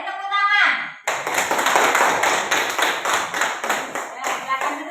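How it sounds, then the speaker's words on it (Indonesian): Students clap for their group's presentation in a classroom, a dense burst of many hands that runs steady for several seconds after a short spoken line at the start. "Beri tepuk tangan."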